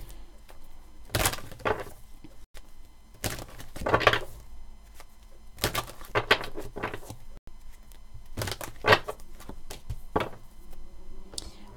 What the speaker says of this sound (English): I'm going to carry on shuffling.